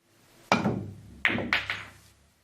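Billiard balls clack sharply on a pool table during a fast-speed rolling kick shot off the cushion, giving three distinct close knocks in quick succession, each fading quickly.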